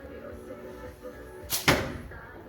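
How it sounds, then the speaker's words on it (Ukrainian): A bow shoots three 26-gram arrows at once into a target: after quiet room tone comes a sharp release snap and a quick thud of impacts, a brief loud burst that fades out. "Постріл трьома стрілами."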